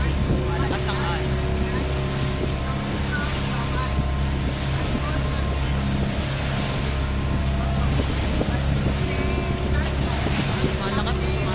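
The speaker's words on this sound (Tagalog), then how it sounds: "Malakas ang alon, guys." Boat motoring through strong, choppy waves off an Iloilo island, a steady engine drone under continuous wind buffeting and water rush throughout, with people talking nearby.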